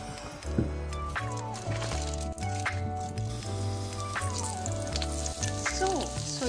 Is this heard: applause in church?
no